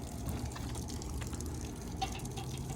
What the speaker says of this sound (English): We had put water in here previously and we're in the process of draining it.